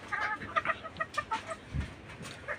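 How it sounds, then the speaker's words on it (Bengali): A local desi breed hen clucks in a quick irregular series of short, fairly close calls, with a soft thump in the middle and no talking. "এই হচ্ছে একটা দেশি মুরগি"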